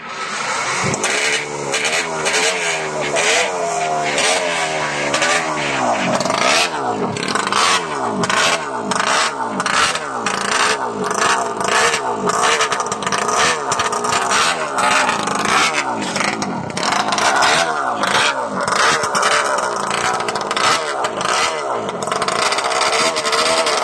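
Engine of a 1968 historic collectable motorcycle restarted and revved hard, loud and close, with repeated rising and falling throttle blips, mechanical clatter and rattle between revs.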